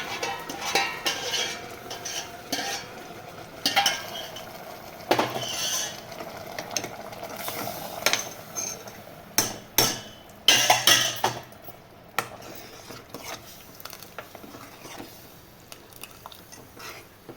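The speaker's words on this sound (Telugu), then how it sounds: "ఇప్పుడు నేను ఇవి ఇందులో కలిపేసుకుంటున్నా" A spoon stirs cooked sago and chana dal into milk for payasam, giving repeated clinks and scrapes against a metal pot. The strokes come in an irregular rhythm, close and fairly quiet, with no one talking.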